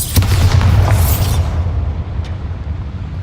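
In Hogwarts Legacy, a Bombarda spell explodes with a single loud, deep boom and a burst of crackling debris that rumbles briefly and fades away over a few seconds.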